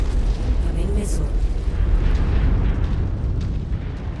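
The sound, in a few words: missile explosion in a mech video game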